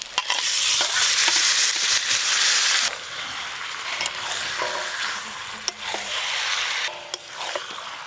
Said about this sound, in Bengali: মশলা খুব ভালো করে কষে নিয়েছি, এবার মাংসটা দিয়ে দেবো।